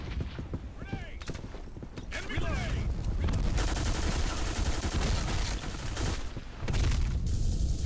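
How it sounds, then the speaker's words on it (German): Sustained gunfire from the online shooter Black Squad, dense bursts of shots rolling over a busy game mix, with a voice talking over parts of it. "Du kannst doch nicht einfach auf mich schießen"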